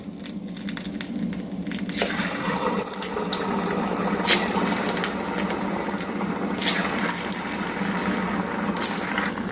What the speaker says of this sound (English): Now the next step is we have to fry all these items in a medium flame